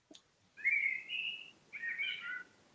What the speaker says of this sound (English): I think that's a blackbird, isn't it?